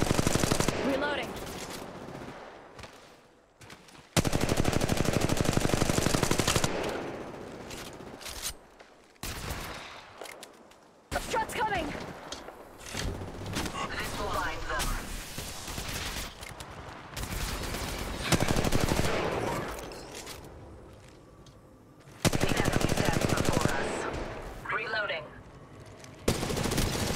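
Automatic and burst gunfire in the Apex Legends Mobile battle royale game, loud and dense, with repeated fusillades broken by short gaps while game voice lines speak over it.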